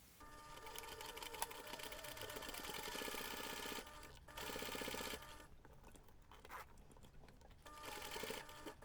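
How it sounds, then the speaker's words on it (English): A sewing machine stitches the seam of a fabric zipper pouch with a 5 mm seam allowance, running in steady bursts with brief pauses between them, close and fairly quiet, no talking. "we're going to take this to the machine and sew the seam"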